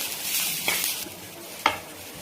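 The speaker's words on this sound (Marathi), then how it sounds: "अर्धा इंच आल्याचा तुकडा टाकते आणि पाच सहा लसणाच्या पाकळ्या आहेत ते पण टाकून आपल्याला याच्यामध्ये भाजून घ्यायचे" Ginger pieces and five or six garlic cloves frying in a pan for a vegetable meal, giving a steady soft sizzle with a couple of brief stirring scrapes.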